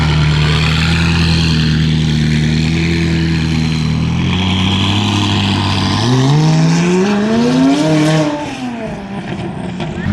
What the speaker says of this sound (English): we pull up and there's a big wing 570 rolling out